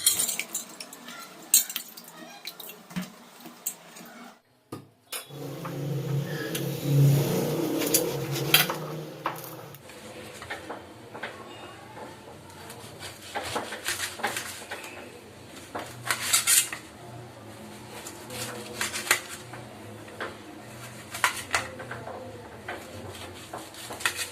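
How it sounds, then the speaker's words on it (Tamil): A large citron (narthangai) for pickling is cut with a knife in a home kitchen, giving uneven knocks and clinks of the blade against a board and dishes, with a short pause partway through. "அடுத்து வந்து நம்ம நார்த்தங்காயை கட் பண்ணிடுவோம்"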